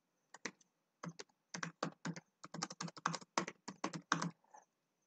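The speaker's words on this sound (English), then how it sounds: "So I'm going to type this in." Keys clatter in quick irregular bursts as someone types a figure caption on a computer keyboard in LibreOffice Writer, close and fairly quiet, with brief pauses between runs and no voices.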